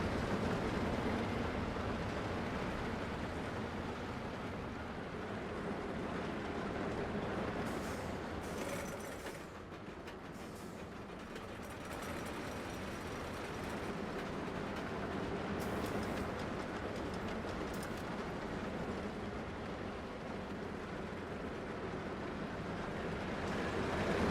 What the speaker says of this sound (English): Check out the first roller coaster I made on Planet Coaster 2